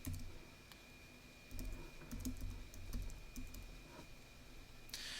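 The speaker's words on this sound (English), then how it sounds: "don't forget to type in the exact same password that you've put up here in the password field" Someone types a password on a computer keyboard in a steady run of quiet, close key taps. The tapping is punctuated by a few sharper strokes over a faint electrical hum.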